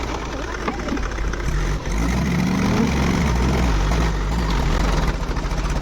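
A heavy tractor engine, stuck while hauling manure, rumbles and chugs steadily at close range, its low throb running throughout with slight rough knocking.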